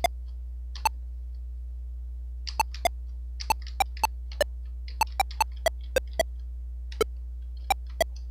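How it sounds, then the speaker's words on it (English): Very short blips from a PSG sound chip, each lasting about 1/60th of a second, sounding as sharp isolated ticks. They come irregularly, roughly fifteen in eight seconds, over a steady low hum, with no talking. "But it's a real quick blip. It's 1/60th of a second."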